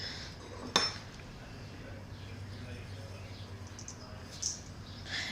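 A metal spoon clinks sharply against a bowl a few times while measuring poppy seeds for lemon poppy seed bread. The clinks are brief, close and separated, over a low steady room hum.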